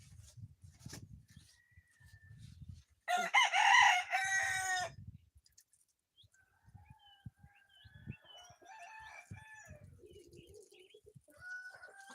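A rooster crows loudly from nearby, then hens cluck and call softly in an outdoor yard, with scattered footsteps and rustling around them.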